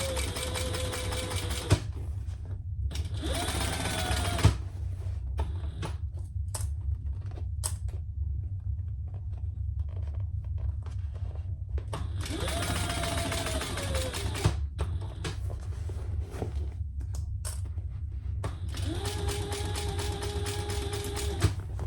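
A sewing machine stitches very slippery fabric in four close, steady bursts, each with a humming whine, separated by quieter pauses filled with handling noises.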